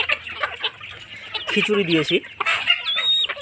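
Laying hens and a few roosters cluck close by while being fed leftover khichuri with rice and wheat, their calls rising in a short burst under a person talking.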